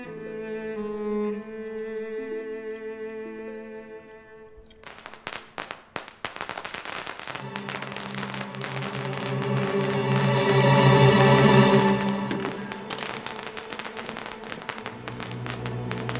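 Strings of firecrackers go off in a long crackling burst of dense rapid pops after a quieter stretch of tones. The crackle swells loudest midway, then keeps snapping irregularly.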